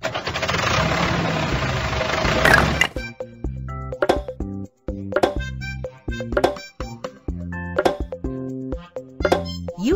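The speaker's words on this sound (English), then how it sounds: "Tractor." Tractor engine effect from a kids' car puzzle video game: a short, loud rumbling burst for about two seconds, then cheerful plucked game music with bouncy notes carries on to the end.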